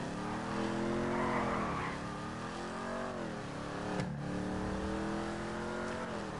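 A car engine in Grand Theft Auto revs and shifts through gears, pitch climbing and dropping repeatedly, with a brief tire squeal, loud and continuous.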